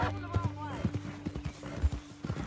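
Horse hooves in the video game Red Dead Redemption 2 clip-clop in a steady, moderately loud rhythm while voices talk over them.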